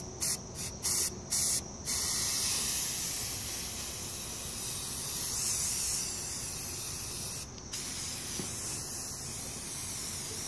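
An aerosol spray can hisses steadily while a DIY honeycomb piece is spray painted, starting with several short bursts and then settling into one long continuous spray that runs close and fairly loud.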